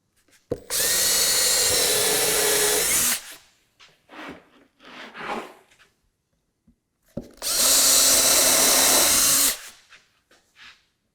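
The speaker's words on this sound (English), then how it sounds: "so I know where to drill my holes" A power drill whirs loudly in two long steady bursts of a few seconds each, drilling holes in wood, with brief scraping and handling noises in the pause between them.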